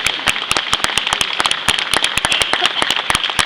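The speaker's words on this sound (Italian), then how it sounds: "al quale tributiamo questo applauso" A crowd at an outdoor May Day Labour Day festival in Cervignano del Friuli claps for a young tractor driver. The sharp, close hand claps come in a brisk, uneven patter and keep going steadily.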